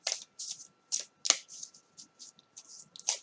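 Tiny Rituals oracle cards being shuffled by hand in quick, separate riffling bursts with short pauses between, close and fairly quiet in an otherwise silent room.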